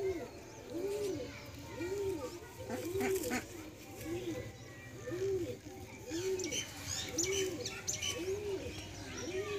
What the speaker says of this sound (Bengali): ফ্রেন্ডস, এটা মাদি পায়রা, খুব সুন্দর কোয়ালিটি, ডানা কোয়ালিটি আমরা এবার দেখে নেব